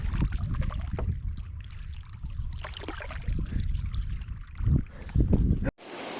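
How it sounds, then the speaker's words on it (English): Water of the Ogoki River flowing toward a canoe crossing from Whitewater Lake, a steady close rush and splash with broadband trickling and some paddle or hull knocks, fairly loud throughout. "The water of the Ogoki River flowing towards us was a welcome sight"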